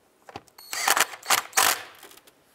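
A ratchet tightens a 10 millimeter bolt on a 2005–2010 Jeep Grand Cherokee engine while the variable valve timing solenoid is replaced, giving several close bursts of rapid mechanical clicking separated by brief pauses.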